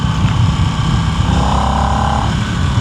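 A Harley-Davidson Nightster with a Revolution Max engine revs steadily nearby, a loud, continuous engine roar whose pitch climbs partway through and then holds.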